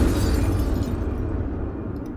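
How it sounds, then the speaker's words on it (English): A loud, deep explosion effect in the Unity 3D game engine rumbles steadily and fades slowly, a sustained blast with no voices. "Okay, we have 2 explosions right now."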